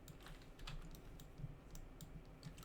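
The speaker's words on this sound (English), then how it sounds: "I'm then gonna hit W or 2 on my keyboard" Computer keyboard keys clicking during 3D modeling work in 3ds Max, a quick irregular run of light taps at close range, quiet and steady with no voices.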